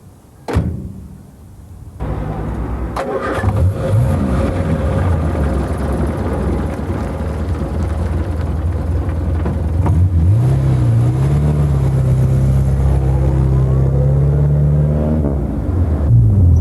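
A Morris Minor car on a test drive in Somerset: after a door clunk the engine starts and settles into a loud, steady interior drone that rises in pitch as the car speeds up, with no talking.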